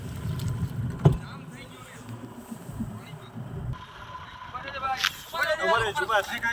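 A boat pushes through monsoon floodwater in Dwarka with a low rumbling wash and splashing, while several people talk and shout nearby, their voices growing louder toward the end.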